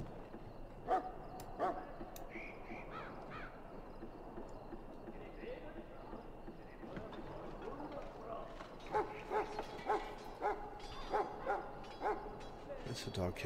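Dogs bark at the kennels of a camp in Dragon Age: Origins, a run of quick yaps and woofs that grows busier toward the end, heard at moderate distance beneath hooves and general camp ambience.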